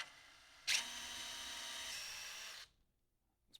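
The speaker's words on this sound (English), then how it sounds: "we're going to drill right into the bottom of it" A power drill bores into the bottom of a wood carving at the center of the heel, a sudden close whir held steady for about two seconds before cutting off into quiet.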